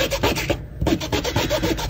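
Rubbing alcohol being scrubbed along the edges of a diamond painting canvas, a close, steady rhythmic scraping and rubbing with a short pause midway.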